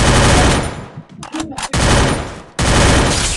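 Rapid automatic gunfire in the Free Fire mobile game, loud dense bursts that break off briefly mid-clip and then resume at full force.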